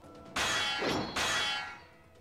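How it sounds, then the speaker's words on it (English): Swords clash in a samurai fight scene from the Hakuoki: Kyoto Winds video game: two loud, ringing metallic clangs strike in quick succession, each one bright and resonant before fading. "Blow after blow crashed against his defenses"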